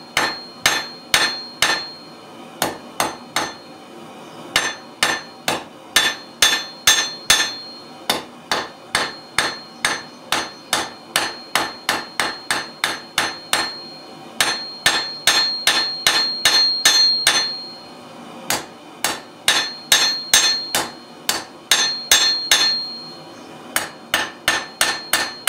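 A small piece of spring steel, nearly the length of the anvil, is straightened by hammer blows. The ringing strikes are close and loud, coming in quick bursts with short pauses between groups.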